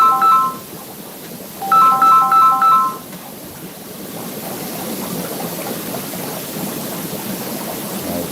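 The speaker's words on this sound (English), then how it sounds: "I was starting to get a phone call." Incoming-call ringtone on a phone, a melodic electronic tone pattern heard in two bursts, one short near the start and a longer one about a second later, fairly loud over a steady background hiss of running water.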